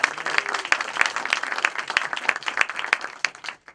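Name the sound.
audience applause at panel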